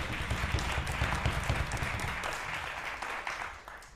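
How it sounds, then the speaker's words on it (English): Concert audience applauding a string quartet performance, a dense steady wash of clapping from many hands that fades slightly toward the end. "Claire Jones deserve a round of applause."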